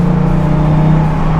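A 2023 Dodge Challenger SRT Hellcat Jailbreak with its 717 hp engine pulling under acceleration while shifted by paddles, giving a loud, steady, close exhaust drone with a sustained droning tone.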